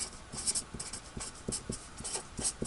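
A pen or pencil writes out a multiplication problem in quick scratchy strokes with short pauses between them. The strokes are close and soft, set against faint room hiss and heard alone.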